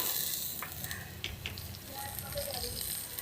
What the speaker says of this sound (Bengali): পেঁয়াজটা ভাজা হয়ে গেছে, ওর মধ্যে কাটা টমেটো দেবো